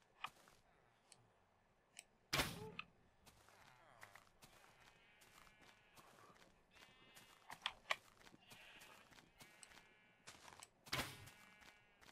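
Minecraft sheep bleating in short wavering calls, several of them spread across the clip over quiet ticking game sounds, with a couple of louder sharp clicks.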